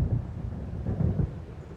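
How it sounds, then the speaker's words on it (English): Low rumbling thunder rolls through an approaching storm in the video game Alan Wake, a steady deep roar with swelling surges, loud and continuous with no talk. "It seems there's a storm coming."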